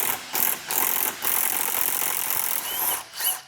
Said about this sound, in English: We're gonna disconnect the engine mounts, leave them on the subframe.